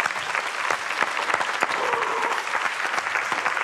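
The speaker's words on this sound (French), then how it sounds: "Je vous demande de transformer un compte à rebours en tonnerre d'applaudissements" Thunderous applause from a crowd at the final of the French florists' cup competition, dense steady clapping filling the room from start to finish, loud and sustained with no break.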